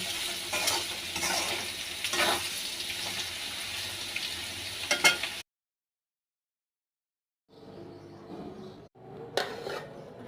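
Potato bhaji frying beside a pot of boiling rice, giving a steady close hiss and bubbling with occasional stirring clatter, then cut off by a few seconds of silence before the cooking noise starts again.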